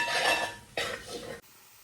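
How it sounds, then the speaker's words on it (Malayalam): A spoon stirring masala with coriander powder in a pan scrapes and clinks against the metal in two short, close strokes, then stops. "സോ നമ്മളിത് ജസ്റ്റ് ഒന്ന് വഴറ്റി മസാല പച്ചമണമൊക്കെ ഒന്ന് മാറുന്ന വരെ ജസ്റ്റ് ഒന്ന് ഇളക്കാം"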